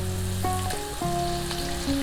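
Ground onion and cashew nut paste sizzles in frying masala for a restaurant-style chicken masala, a close steady hiss of hot oil under a melodic music bed.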